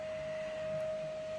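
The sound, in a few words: vacuum cleaner hoovering at home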